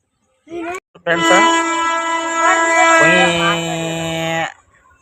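A goods train passes close by on a railway line, its loud harmonic horn sounding in long sustained blasts over the rumble of the wagons, after a brief voice at the start.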